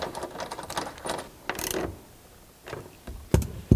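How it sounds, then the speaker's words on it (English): A T50 Torx bit tightens hardware on a soft-top bracket of a Jeep Wrangler JL: faint, quick mechanical clicks and rattles in scattered short bursts, up close and without talk. "reinstall this bracket with the hardware that you removed and a T50"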